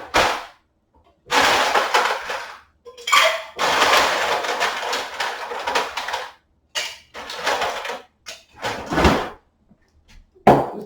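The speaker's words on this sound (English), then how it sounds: "So we add our ice." Ice being added to a stainless steel cocktail shaker, heard as loud, close bursts of clattering and rattling that come and go in several separate bunches with short silences between.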